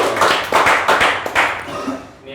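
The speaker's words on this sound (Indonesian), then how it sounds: "Tepuk tangan buat Fitra" A small group claps for Fitra in a short burst of lively applause close by, with the clapping fading out toward the end.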